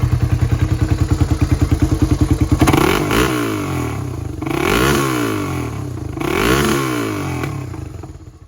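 A close, loud 1985 Honda ATC350X engine with a Power Pros exhaust idling with a fast chugging pulse, then revved hard several times, each throttle blip surging and falling back with a deep, aggressive exhaust note.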